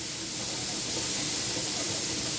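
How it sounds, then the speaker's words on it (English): Steam vents from a Presto pressure canner in a loud, steady, broadband hiss that holds unbroken throughout, alone with no talk. "That's steam there, but you'll hear the air coming out as well."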